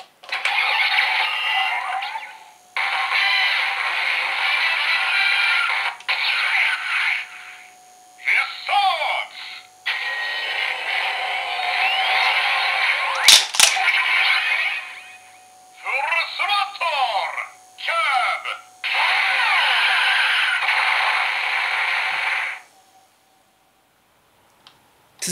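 Finishing-move effect from a DX Shift Car toy set, a bright electronic jingle of beeps, chimes and synth bursts in segmented phrases with brief pauses, loud and close.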